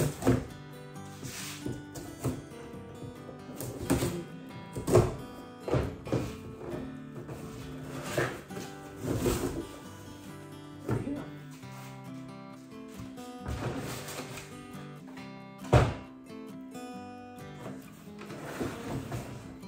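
A new replacement motor for an Old Town AutoPilot is eased out of its shipping box, with a series of light cardboard scrapes, taps and rustles coming up close at an irregular pace, and no talking over them.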